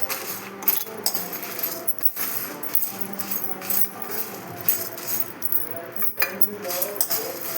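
Dry spices for menthikaram, including dried red chillies, dropped one by one into a pan, giving scattered light clinks and rattles under a steady speaking voice.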